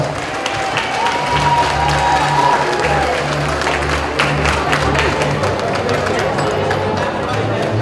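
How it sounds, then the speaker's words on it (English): Sustained audience applause at an Asian Pacific American Council of Georgia event, dense clapping from a crowd filling the whole stretch with a steady wash, low hum underneath and a few voices mixed in. "one more round of applause for all of our sponsors"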